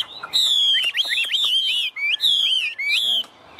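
A tame Chinese hwamei songbird held close, singing a loud, rich run of varied whistled phrases with rapid slurred notes and brief pauses, clear and near.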